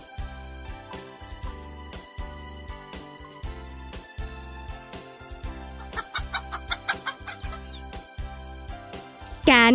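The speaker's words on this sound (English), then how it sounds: "Hen." A hen clucks in a short burst near the end, following a steady, rhythmic musical backing that fills the rest of the stretch.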